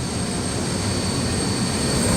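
Antonov 124 cargo aircraft coming to a halt: a loud, steady broadband engine roar with a high whine on top, continuous and close throughout.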